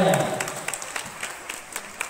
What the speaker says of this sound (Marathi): या महिलेसाठी आणि या महिला शक्तीसाठी पुन्हा एकदा जोरदार टाळ्या